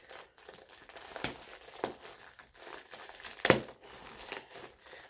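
Plastic bag crinkling as a thick hoodie is pulled out of its packaging, with irregular rustles and a sharp loud crackle burst partway through, close and alone.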